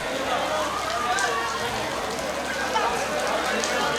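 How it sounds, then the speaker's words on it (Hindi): Rain falls steadily on an outdoor religious mourning gathering, a dense, continuous hiss spread evenly through the whole stretch, with crowd voices murmuring underneath. "बारिश हो रही है"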